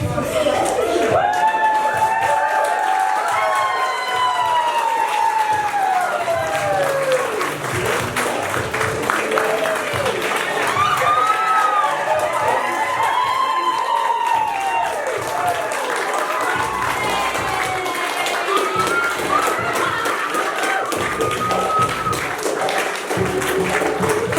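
Wedding guests stand up and cheer, clapping steadily and whooping with scattered shouts and voices as the bridesmaids and the two brides enter, a loud continuous crowd din throughout.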